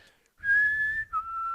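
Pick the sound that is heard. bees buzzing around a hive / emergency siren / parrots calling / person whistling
person whistling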